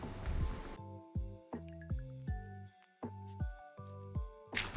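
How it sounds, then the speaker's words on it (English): Steady rain pattering and dripping in a Minecraft Cobblemon world, soft droplets repeating over a calm musical backdrop, with no talking. "It is always raining in my worlds."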